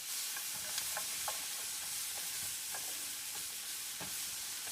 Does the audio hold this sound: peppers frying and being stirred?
yes